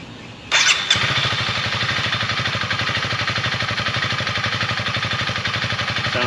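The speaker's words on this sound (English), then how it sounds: "Let it run for a few minutes before I fire it up for you guys here to listen to" A Honda CRF300L motorcycle engine cranks and fires up at close range, then settles into a steady, loud idle with an even rhythmic thump.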